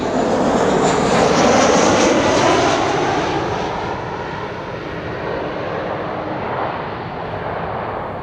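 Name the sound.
Georgian Airways airplane arriving at Amsterdam Schiphol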